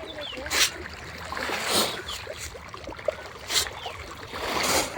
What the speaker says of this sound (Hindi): वो जो आवाज हो रहा था ना पानी में, वो सुन के बहुत ज्यादा सेटिस्फाइंग और रिलैक्सिंग फील हो रहा था।